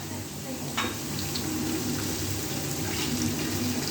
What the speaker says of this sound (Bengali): আমার পেঁয়াজটা এখন ভাজা ভাজা হয়ে গেছে। আমি এখানে এলাচি, দারচিনি, মশলা এখন দিব।